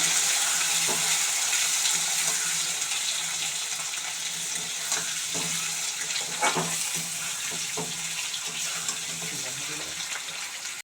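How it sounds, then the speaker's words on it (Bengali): Potatoes with fenugreek and a little sugar fry in a pan for aloo dum, giving a continuous close sizzle with occasional stirring clinks and scrapes. "আলুটা বেশ ভাজা ভাজা হয়ে গেছে, দেখতে পাচ্ছ লাল লাল করে।"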